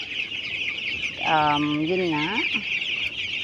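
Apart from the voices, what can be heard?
12-day-old chicks clucking on a poultry farm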